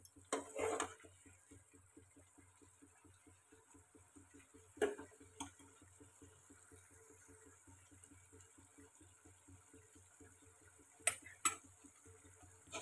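A spoon steadily stirs mustard-based sem bean and potato sabzi in a pan, making quiet, regular scraping ticks. A few louder metallic clinks stand out near the start, middle and end.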